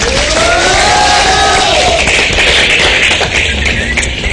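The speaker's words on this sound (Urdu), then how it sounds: "بھرپور تالیوں میں استقبال کیجیے گا" Studio audience in a Pakistani television talk show applauding and cheering to welcome a former president joining by phone line, a loud, dense, sustained wash of clapping and crowd noise throughout.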